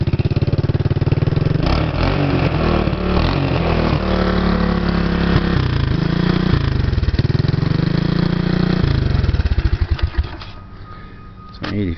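A 1985 Honda ATC 200S three-wheeler engine runs steadily up close, its loud mid-pitched note shifting through a few revs before cutting off briefly near the end and returning.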